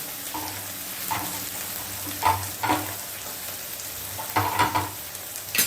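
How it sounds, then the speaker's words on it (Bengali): Shredded cabbage for veg chow mein being stirred in a frying pan, a continuous sizzle broken by several sharp utensil scrapes and taps against the pan. "বাঁধাকপিটা দিয়ে একটু নাড়িয়ে দেব"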